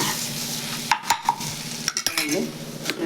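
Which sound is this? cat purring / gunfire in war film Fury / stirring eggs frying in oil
stirring eggs frying in oil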